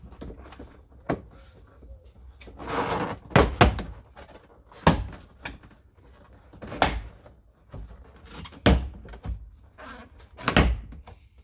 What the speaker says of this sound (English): I think we just pull on the door panel and it comes off